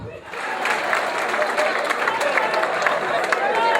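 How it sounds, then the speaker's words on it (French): Guests at a wedding applaud steadily, a dense crowd of clapping hands filling the room for several seconds, with a murmur of voices underneath. "Les applaudissements c'est bien parce que depuis que je suis entré là, vous ne faites qu'applaudir."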